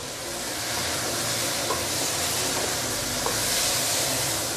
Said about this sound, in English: Give it a few more stir.